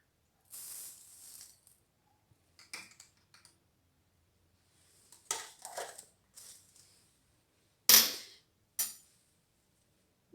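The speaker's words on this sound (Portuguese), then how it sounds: "Vou misturar açúcar com a água" A tablespoon of sugar stirred with a spoon into 100 ml of warm water, giving scattered scraping and clinking taps in short, irregular bursts with quiet gaps, one sharper clink near the end.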